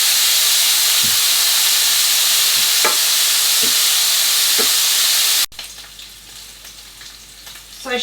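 Bacon lardons fry in a non-stick pan with a steady loud sizzle, broken by a few brief stirring clatters. Partway through the sizzle cuts off sharply and a quieter, thinner hiss follows.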